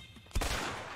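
Gunfire in the video game A Way Out, a sudden loud burst of shots that rolls into a sustained noisy rumble of continued firing for most of a second.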